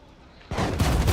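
A sudden spray of rifle fire in Valorant during a pro match, a quiet lead-in that breaks into a loud rapid burst of close shots.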